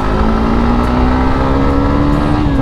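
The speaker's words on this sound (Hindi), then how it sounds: "0 to 60 तो बहुत ज़बरदस्त गई बाइक।" A new motorcycle accelerating on the road, a steady loud engine drone with a rising pitch and wind rush, close and continuous with no talk.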